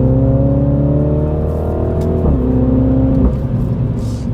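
Mini John Cooper Works exhaust and engine heard from inside the cabin, a steady loud drone with rising harmonics as it accelerates, a brief dip around a gear change, then pulling again.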